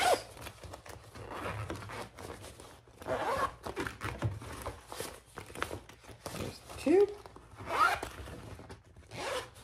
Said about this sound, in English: fully lined zipper pockets